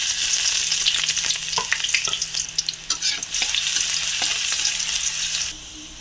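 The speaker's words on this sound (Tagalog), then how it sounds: "tapos gigisa na tayo ng ating bawang" Garlic sizzles and crackles steadily in hot cooking oil while being stirred, a loud continuous frying hiss with scattered pops and brief scraping stir strokes, ending slightly quieter.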